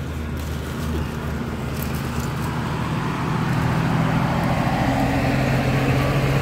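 Road traffic passes along a road beside a cave, heard from inside or near the cave as a continuous low rumble of vehicle engines that swells slightly toward the end, with no voices.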